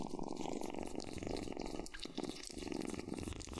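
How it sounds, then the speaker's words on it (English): A cat noisily eating a crocodile tail, with steady loud crunching and chewing close up that runs continuously without a break and no talking. "A very loud cat."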